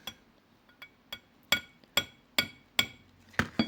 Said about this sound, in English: I've just got my special hammer here.